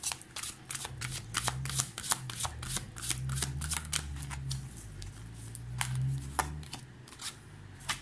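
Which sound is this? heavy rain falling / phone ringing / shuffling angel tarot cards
shuffling angel tarot cards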